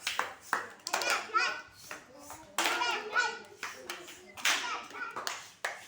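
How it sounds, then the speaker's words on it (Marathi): Children in a school classroom burst into several rounds of applause, sharp clapping bursts alternating with a teacher's and children's voices. "आता त्याला समजलेलं आहे तर त्याच्यासाठी राहुलसाठी पण टाळ्या आणि नैनिक्षासाठी पण टाळ्या"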